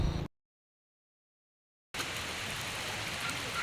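Rain falls on a road as a broad, steady wash of hiss; it cuts out briefly into silence, then resumes evenly and fairly loud.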